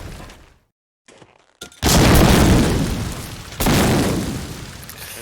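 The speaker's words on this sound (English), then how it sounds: "4 nades all at the same time." Grenades go off in a Medal of Honor: Allied Assault multiplayer match, with a brief near-silence followed by a loud, close blast and a second heavy explosion, each decaying into a long rumble.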